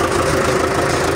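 A newly delivered tractor with a one-hour engine idles close by, a loud, steady, even rumble with a faint rhythmic knock and no talk.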